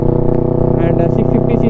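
A Kawasaki Ninja 650 parallel-twin fitted with a Mivv full exhaust system idles and burbles loudly up close with a rough, pulsing throb and sputtering crackles, while someone talks over it.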